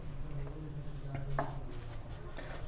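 Pen or chalk writing out an equation during a maths lesson, faint scratchy strokes and taps over a low background hum, with no speech.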